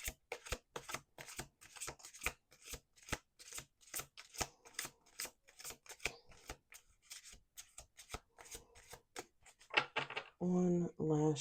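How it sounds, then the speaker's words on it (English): A deck of cards being shuffled repeatedly in a quiet room, a quick series of crisp riffles and snaps with short pauses between, ending in a longer cascading shuffle. "2 more shuffles."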